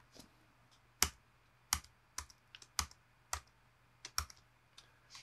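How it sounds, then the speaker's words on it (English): Keys clacking on a computer keyboard in short irregular bursts, about a dozen crisp close strokes with brief pauses between them, no voices. "as I typed in the word classic"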